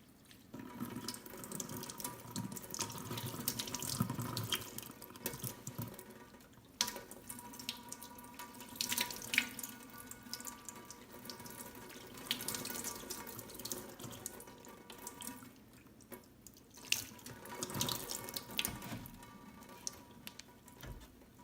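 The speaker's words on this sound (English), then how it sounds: "I'm going to see about rinsing it with distilled water" Distilled water streams steadily over an Apple IIe circuit board during cleaning, a close, continuous splashing flow with small drips and brief pauses and no talking.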